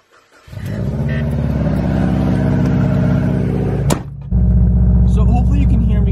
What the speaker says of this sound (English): hopefully you can hear me over my obnoxious loud car